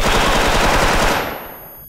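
AK rifle in a video game fires a loud, rapid automatic burst of dense, overlapping shots that fades out with a short tail.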